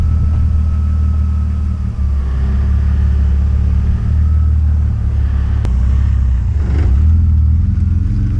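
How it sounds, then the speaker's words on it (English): An MK3 VW Golf pulls away from a standstill in gear, a loud, low engine drone with a steady vibrating rumble heard from close by, swelling slightly as it moves off. "only when it's going into gear. Like from a standstill. That vibration"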